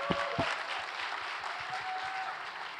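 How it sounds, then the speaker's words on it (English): An audience at a men's mental health panel applauds the panelists, a sustained wash of many hands clapping at moderate loudness, with a few sharper nearby claps at the start. "So you guys give them a round of applause for this."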